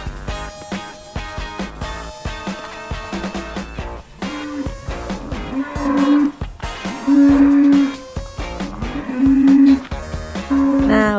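Cattle lowing in a farm pen at Kuntum Farmfield: a series of loud, close, drawn-out moos, repeated several times and growing stronger and longer in the second half, with no talking.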